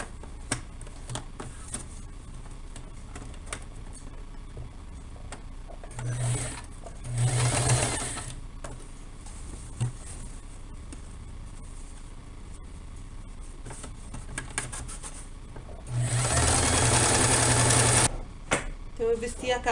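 Sewing machine stitching bias binding onto a fabric pouf cover, two short bursts of close motor whirring, the second longer, between stretches of quiet handling and spoken instructions.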